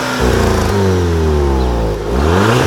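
A Volkswagen GTI engine revs hard nearby, pitch rising in sweeping climbs, briefly dropping and then surging again, loud and alone.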